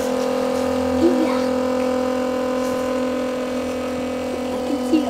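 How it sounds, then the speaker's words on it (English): An electric pump hums steadily and loudly while emptying a van's black tank, a constant motor drone with a few faint knocks. "We're opening up our black tank and we're gonna cut this pump on."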